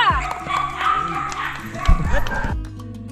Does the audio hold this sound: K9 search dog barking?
yes